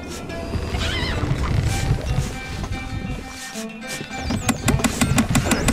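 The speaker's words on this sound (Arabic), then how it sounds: "الحصان سريع." Horse neighing in the medieval castle-building strategy game Stronghold Crusader, a whinny rising over a dense clutter of game sounds with sharp clicks toward the end.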